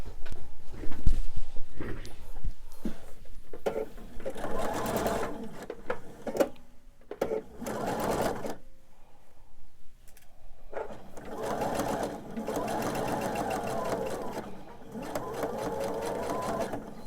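A sewing machine stitches a seam on quilt piecing, its fast rhythmic whir coming in several close bursts separated by brief pauses.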